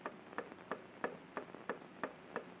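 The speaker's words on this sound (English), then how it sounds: "What's that ticking?" Clock-like ticking beats in a steady, even rhythm, about eight crisp ticks close by and alone against a quiet background.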